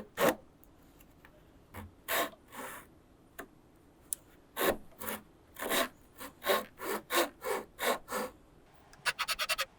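A hand saw cuts a clamped wooden workpiece for a tapered sliding dovetail joint, starting from one corner. Sparse scraping strokes settle into a steady rhythm of close, rasping pushes and pulls, ending in a burst of short, rapid strokes.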